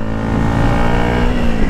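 A Yamaha YZF 125 motorcycle engine held at full throttle, a loud, close, sustained buzzing roar with no pause and no voices over it.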